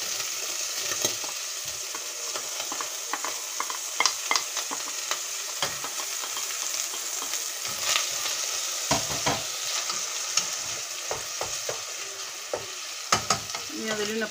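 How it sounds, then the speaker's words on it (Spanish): Vegetables sofrito-frying in hot oil for a dogfish in tomato sauce recipe, a continuous close sizzle with scattered crackles and pops as the pan is stirred now and then. "Ya tengo puesto el aceite a calentar y ahora vamos a sofreír primeramente la verdura."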